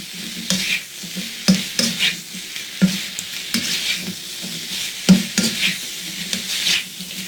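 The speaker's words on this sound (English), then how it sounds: "Let's go ahead and continue to fry this up a little bit." Vegan fajita vegetables and chunks of mango fry in a hot pan with a steady sizzle. Scrapes and stirring knocks break in every second or so, close and clear, with no voices.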